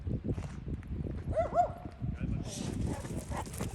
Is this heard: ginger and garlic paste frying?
no